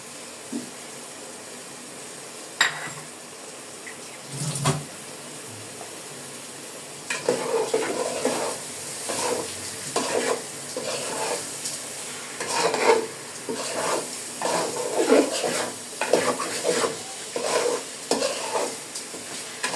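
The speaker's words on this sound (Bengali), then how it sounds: "চালটাকে আমি ভালো করে ভেজে নিব।" Polao rice stirred in hot oil with fried ginger for chicken polao: the start is quiet with a few isolated clinks, then from about seven seconds repeated scraping strokes of stirring over a steady frying sizzle, close up, with no voices.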